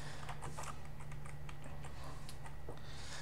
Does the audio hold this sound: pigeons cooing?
no